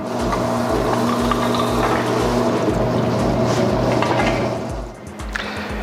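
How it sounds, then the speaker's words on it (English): Used automatic transmission fluid drains through a hose into a collection tank on a service machine, a loud steady gurgling flow over a rhythmic low pump pulse, continuous and close. "And then we can simply drain it directly into the tank."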